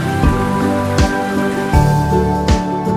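Rain patters steadily on a surface, with a few louder drop splashes, while sustained tonal music plays throughout.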